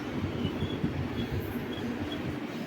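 Train 16342, the Guruvayur Intercity Express, sits at a railway station housed in a 1918 British-era building, giving off a steady, close rumble of rolling wagons with faint metallic clicks throughout and no talk.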